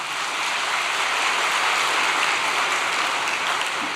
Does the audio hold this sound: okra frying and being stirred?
no